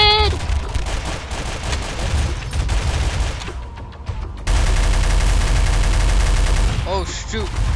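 Rapid bursts of video game gunfire in Garry's Mod Flood, loud and dense through most of the stretch, with players shouting over the shots.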